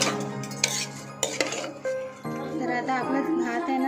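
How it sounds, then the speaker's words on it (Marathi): A metal spoon scrapes and clinks against a pan as rice is stirred and fried in oil for mixed-pulse khichdi, with a soft sizzle underneath; close, irregular scraping strokes. "हा जो तांदूळ आहे ना हा चांगला एकदम असा परतून घ्यायचा ह्याच्यामध्ये तेलामध्ये"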